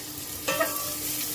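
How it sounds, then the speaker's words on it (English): Onions drop into hot oil and start sizzling with a stirring scrape, a steady close fry hiss throughout the short moment. "Oil to go in, and then the onions."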